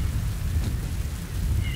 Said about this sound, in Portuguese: Por causa da maldita tempestade de areia.